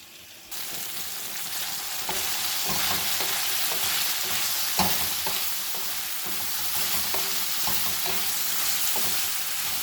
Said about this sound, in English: I will saute those mushrooms for 2-3 minutes and then I will add onions.